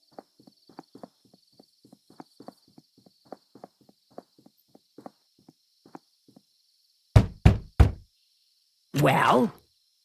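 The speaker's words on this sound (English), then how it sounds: "You're the one who knocked, you tell me." Knocking on a door in the horror game Slender Threads, a short run of three heavy thuds near the end, after a long stretch of light, regular tapping like footsteps, followed by a brief groaning sound.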